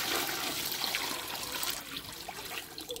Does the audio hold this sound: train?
no